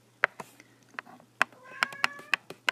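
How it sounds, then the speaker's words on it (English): A house cat meows several times in quick succession, short, clear and fairly close, with a low steady hum running underneath. "If y'all didn't hear my cat, she's telling y'all multiply"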